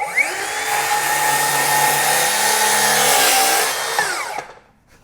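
A Spyder power tool cutting through pressure-treated framing lumber, a loud steady motor whine with tonal harmonics sustained for about four seconds, then spinning down and falling silent.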